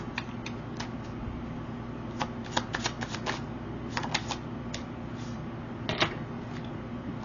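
A deck of tarot cards being shuffled, with soft riffling and snapping card sounds in quick bursts over a steady low background hum, close and fairly quiet.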